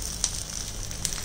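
Sabudana vada frying in hot oil in a pan, a steady bright sizzle with a couple of sharper crackles, close and continuous with no voices.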